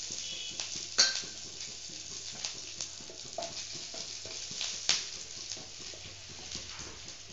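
Mustard seeds and curry leaves sputter in hot oil in a pan on a gas stove, with soft sizzling and scattered sharp pops and clinks of a utensil against the pan.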